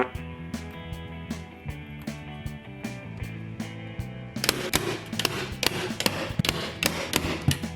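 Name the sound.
hammer hitting staples flush into a wooden picture frame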